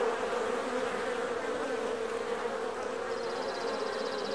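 Honey bees buzz steadily around a hive during July beekeeping in Newfoundland, a close, continuous drone with a brief higher whine joining in near the end.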